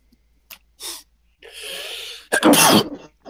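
A single close, sharp sneeze bursts out after a couple of short breaths and sniffs, with a quick inhale leading into it, during an American football game broadcast.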